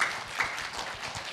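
An audience at a Maitreya Buddha training program claps together in a dense, even patter of applause, sustained and moderately close throughout.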